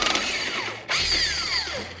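A ratchet wrench fitted with a long chain of extensions works a driveshaft nut on a Hellcat-powered Jeep Gladiator, giving rapid, close metallic clicking in two runs split by a brief pause.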